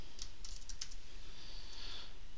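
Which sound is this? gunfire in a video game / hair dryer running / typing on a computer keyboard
typing on a computer keyboard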